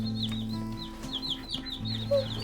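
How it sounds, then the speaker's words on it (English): Baby Cornish meat chickens cheep and cluck softly, a cluster of quick high peeps repeating close by over a low steady hum. "Those are all the meat chickens"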